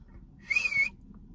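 A single faint, thin whistle, breathy and wavering, held for about half a second by someone who can barely whistle because of braces, over a quiet low room rumble.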